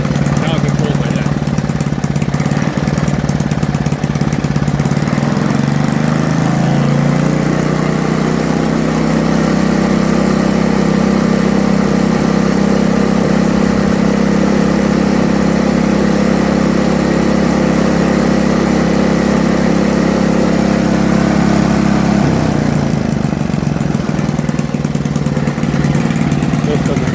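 A Toro 524 snowblower engine running close and loud, a steady droning idle that rises in pitch partway through and then settles back, with a voice speaking over it.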